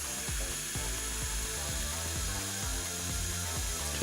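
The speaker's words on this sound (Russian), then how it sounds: "Просверлим отверстие под провод." A step drill bit bores a hole through material for a wire on an illuminated signboard letter, giving a steady, loud power-drill whine with repeated rhythmic bursts as the bit cuts, and no talking.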